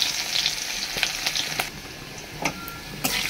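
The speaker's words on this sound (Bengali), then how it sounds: "আর এই যে রসুনটা ফোড়নে দিয়ে দিলাম" Garlic sizzles in hot oil for tempering, giving a steady, close frying hiss dotted with sharp crackles and pops, with no talk.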